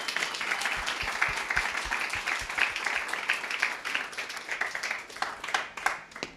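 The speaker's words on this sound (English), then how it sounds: "Let's give everybody a round of applause." A keynote audience at a tech event at Bletchley Park applauds with steady, moderately distant clapping that lasts throughout, with no voices over it.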